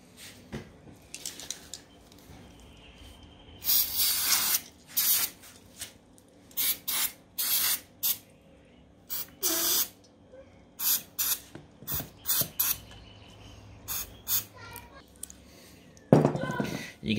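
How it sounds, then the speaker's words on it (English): Short bursts of carb cleaner sprayed into a varnished carburettor from a Honda CBR250RR MC22 motorcycle, about a dozen sharp hissing blasts of uneven length with quiet gaps between them, fairly close. "And now we'll just get a bit of that carb cleaner in here."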